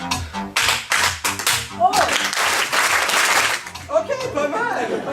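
An audience at a comedy theatre performance claps in rhythm, joining a performer in a chorus of claps while his voice carries over them. The clapping comes in lively bursts and is close and fairly loud.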